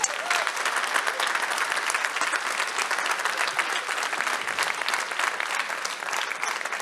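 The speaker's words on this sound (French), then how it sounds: "je vous demande vraiment un tonnerre d'applaudissements pour les encourager" Sustained, dense applause from an audience cheering finalists of a master-of-ceremonies eloquence contest at Funéraire Paris 2023, filling the hall evenly from start to finish without a break.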